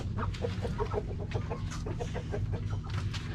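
A chicken just caught by hand clucks in quick repeated bursts, close and fairly loud, over a low steady background hum.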